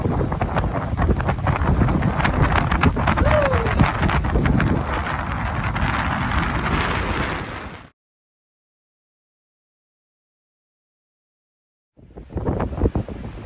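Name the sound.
wind blowing on a cliff-top hiking trail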